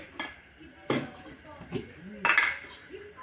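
A metal kadhai is handled and set down in a home kitchen while Mumbai-style vada pav filling is prepared: a few close clanks and knocks of metal on a hard surface, spread out over a few seconds.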